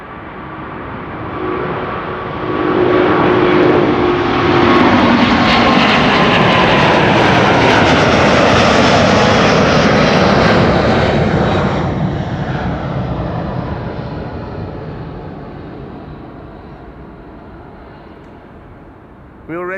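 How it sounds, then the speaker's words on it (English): A Delta Airlines Airbus A350 takes off at Amsterdam Schiphol Airport, its jet roar swelling to a loud, broad rumble that holds for several seconds before slowly fading into the distance. "Delta Airlines Flight 133 back-to-back Delta A350 departures"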